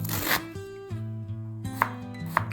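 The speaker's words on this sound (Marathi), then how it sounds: "त्यासाठी 2 मोठे कांदे एकदम बारीक कट करून घेऊया." Two large onions being finely chopped for dhaba-style whole masoor, with a few crisp knife taps on the board under background music.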